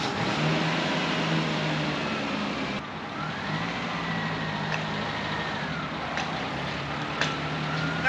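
A mini truck's small engine idles and rumbles steadily while it reverses a gooseneck trailer, a continuous close mechanical drone with slight shifts in pitch and a few faint clicks and knocks.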